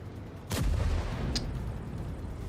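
A tank cannon fires once in a World of Tanks Blitz duel, a sharp loud blast with a booming low tail, followed by a fainter second crack a moment later.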